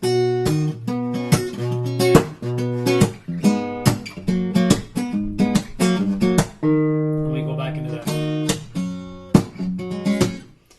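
Guitar plays verse B of a song, a rhythmic run of plucked chords and percussive slaps with short gaps between phrases, close and alone with no talking.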